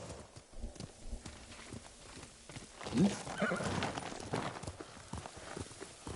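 Horse hooves clop along in the Ghost of Tsushima video game, a steady irregular patter at moderate distance with a brief neigh in the middle, mixed with quiet ambient game noise.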